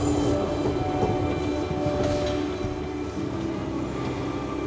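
A Mail Rail underground train rolling beneath the Mount Pleasant sorting office in London, heading east toward Whitechapel: a steady, close rumble of wheels on track with grinding metallic squeal, continuous and unbroken throughout.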